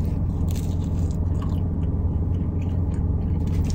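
Close bites and chewing of a Papa John's cheesy burger pizza with pickles, crunchy crust crackling and squishing in steady rhythm, loud and near with no talk.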